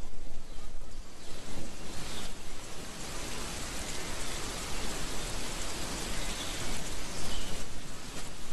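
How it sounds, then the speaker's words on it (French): Steady spring rain pours down over a forest, a dense, continuous hiss of drops on leaves and ground holding an even level throughout, with no voices. "Le seul ennui est la pluie continuelle du printemps."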